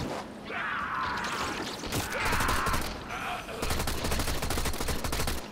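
Furis pistol fire in Warframe comes as rapid, closely spaced shots in bursts, layered over mechanical clatter and game ambience, loud throughout with a brief lull in the middle.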